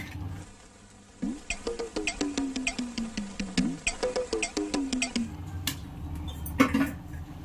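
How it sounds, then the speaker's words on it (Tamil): A spoon scrapes and clinks against the side of a pot while fish curry is stirred, a rapid series of repeated metallic scrapes and taps, fairly close, then a few scattered clinks. "இப்படி சைட்லே போட்டு நீங்கள் கிண்டணும்."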